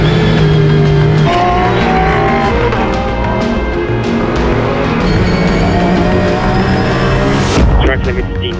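Porsche race cars at full throttle on a circuit in the Ardennes, a loud, continuous engine roar with shifting pitches as cars pass close, under constant race commentary.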